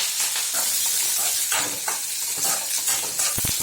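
Onion, green chili and curry leaves frying in a pan, giving a steady, close hissing sizzle with stirring and a few sharp utensil clinks near the end.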